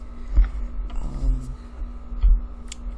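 A steady low electrical hum from an air conditioner runs in the background throughout, with a few soft thumps and brief faint clicks over it.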